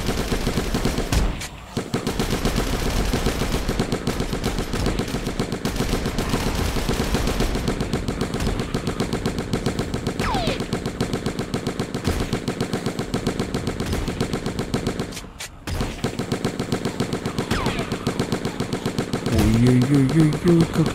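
Rapid automatic gunfire rattles almost nonstop in the zombie shooter game Zombie Battlefield Survivors, a loud continuous stream of shots with two brief pauses and a short burst of other game sounds near the end.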